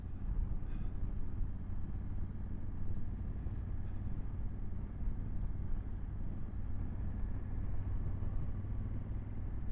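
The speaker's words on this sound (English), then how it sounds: "Back into third. Very talky engine these are." A 2023 Honda CRF1100 Adventure Sports manual motorcycle rides along in third gear. Its engine gives a steady low drone close to the microphone, mixed with rushing wind noise and no clear revving.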